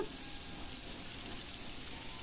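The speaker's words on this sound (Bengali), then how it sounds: "আমার মাছগুলো এক পাশ ভাজা হয়ে গেছে, এবার উল্টে দিচ্ছি" Hilsa fish frying in a pan gives a faint, steady sizzling hiss that runs unbroken from start to finish, with no clear sound of the fish being turned.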